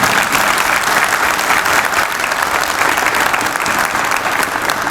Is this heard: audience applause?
yes